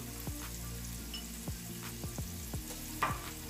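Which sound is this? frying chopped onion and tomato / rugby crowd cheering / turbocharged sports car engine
frying chopped onion and tomato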